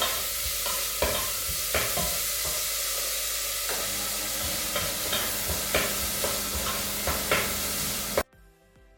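Vegetables sweat in a hot pan for Hungarian chicken paprikas, giving a loud steady sizzle. Repeated scraping stirs cut through it at irregular intervals until the sound cuts off abruptly near the end.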